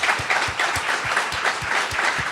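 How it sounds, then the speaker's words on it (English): An audience at a Java talk gives a warm round of applause for James Gosling, a steady, moderately loud wash of many hands clapping with no voices over it. "please give the father of Java, James Gosling, a big round of applause"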